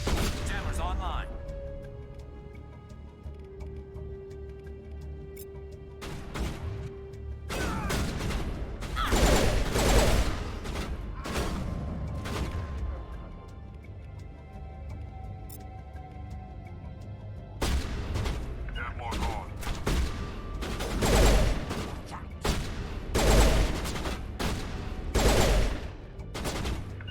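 Gunfire in the Mass Effect video game: repeated loud bursts of automatic fire and booming shots in rapid volleys, with quieter gaps between, alongside game effects and a person talking.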